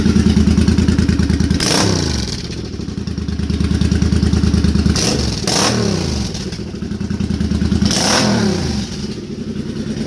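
A Suzuki Boulevard C50 cruiser motorcycle fitted with a Cobra FI2000 fuel controller idles loudly and close by, then revs sharply three times with short rising bursts that fall back to a steady, throbbing idle.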